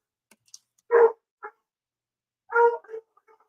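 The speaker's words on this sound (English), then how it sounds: "You guys hear my dog?" A dog in a home barks two short bursts, each a sharp bark with a smaller yip after it, heard in an otherwise quiet room.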